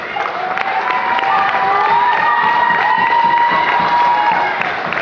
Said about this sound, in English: Let's have a round of applause for these two fighters.